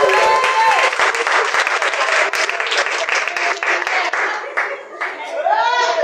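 A church congregation claps loudly and steadily throughout, a dense wash of applause with scattered voices rising over it.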